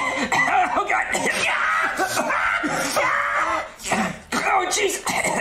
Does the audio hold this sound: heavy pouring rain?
no